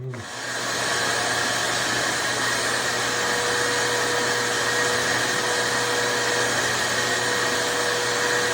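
A vacuum cleaner pulls up sanding dust inside a wooden canoe, a loud, steady close-up whooshing drone with a faint whine, starting within the first second and running unbroken to the end.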